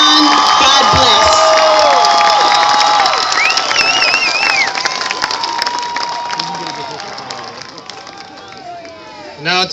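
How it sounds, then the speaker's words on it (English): A high school graduation crowd claps and whoops loudly at first, the cheering and shouting gradually thinning and fading over the span. "Let's have one more round of applause with her marvelous inspirational words"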